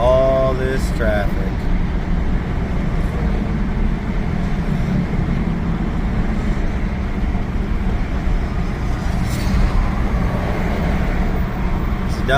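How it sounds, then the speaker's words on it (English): Steady, loud road traffic on a Phoenix highway on a weekday afternoon, a continuous low rumble of passing vehicles heard from inside a moving vehicle with no breaks. "Look at all this traffic."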